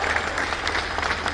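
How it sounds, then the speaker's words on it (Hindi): A crowd at a political rally in Madhya Pradesh applauds thunderously in thanks to the Prime Minister, with a steady, dense roar of clapping that holds at full strength for the whole stretch. "हम अपने यशस्वी प्रधानमंत्री को धन्यवाद दें, श्रीमान नरेंद्र मोदी जी को तालियों की गड़गड़ाहट के साथ"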